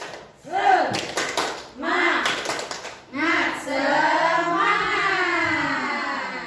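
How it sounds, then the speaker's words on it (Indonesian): A group doing tepuk semangat, the rhythmic spirit-clapping chant, with short bursts of claps in a set pattern punctuating voices that sing and chant the rhythm together. "coba sekarang tepuk semangat"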